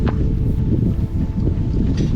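A sailboat cruises down the Firth of Clyde under sail with its engine off, steady broadband wash of water and wind buffeting the microphone throughout, no voices.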